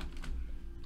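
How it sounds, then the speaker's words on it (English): A computer keyboard clicks in a quick, soft burst of keystrokes at close range, faint over a low steady hum. "Let's get my keyboard here."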